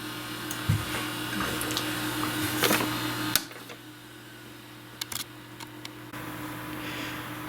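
A vintage Apple desktop computer shutting down: a steady fan-and-drive hum runs near and loud, then drops sharply partway through, leaving a quieter residual whir with a few faint clicks.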